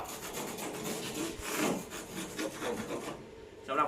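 The burr on the edge of a SmartBoard sheet cut with a utility knife being smoothed off, close rasping and rubbing strokes in an uneven rhythm that ease off near the end.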